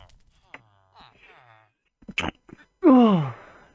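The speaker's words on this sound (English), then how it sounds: "Sneezing." After a few faint sniffs and soft noises, a loud, close sneeze bursts out at the end and trails off.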